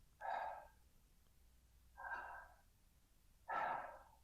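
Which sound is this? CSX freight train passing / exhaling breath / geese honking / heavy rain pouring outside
exhaling breath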